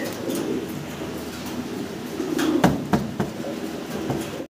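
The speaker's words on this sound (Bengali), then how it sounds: "দেখার মতো সুন্দর কবুতর।" Pigeons coo in low, repeated throaty rumbles, fairly close, with a few sharp knocks and shuffles mixed in and no voices.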